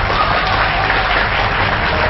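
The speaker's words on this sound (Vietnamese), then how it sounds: "một tràng pháo tay dành cho bạn Đình Bảo" An audience on a televised quiz show claps in a dense, steady burst of applause that holds evenly throughout, loud and close with no break.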